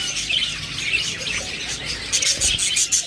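Small budgerigars kept as pet birds for sale chirp and tweet in a steady high chatter, with brighter, sharper calls crowding in toward the end.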